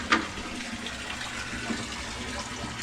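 Water drains away in a flooded underground passage at a resort, a faint, steady trickle and wash with a few small splashes.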